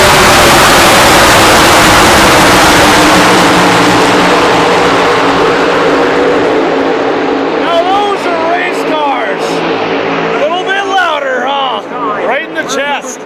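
NASCAR Cup race cars roaring past a crowded track, a loud dense engine wash that slowly fades, with crowd noise and talk over the later part.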